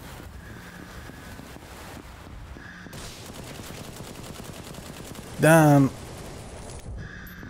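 Shotgun blasts in the VLADiK BRUTAL video game sound as a few spaced, sharp booms over a windy, rumbling background, with a brief spoken word and a short tonal sound in between.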